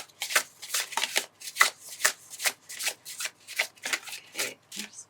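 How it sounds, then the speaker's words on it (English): Tarot cards from The Fountain Tarot deck are shuffled on a mat in a quick, steady run of crisp riffling bursts, each ending in a soft slap of cards settling. The sound is close and distinct, with no voices over it. "I just want to give this guy a really good shuffle"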